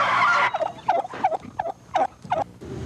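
A turkey gobbles in a rapid, rattling run of about half a dozen throaty bursts, close and distinct, with no talking.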